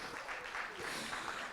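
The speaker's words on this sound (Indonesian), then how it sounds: "Boleh kita tepuk tangan yang terakhir yang lebih semangat lagi?" Applause from an audience in a hotel ballroom during an annual meeting, a steady wash of many hands clapping, fairly quiet and distant, with no clear voices on top.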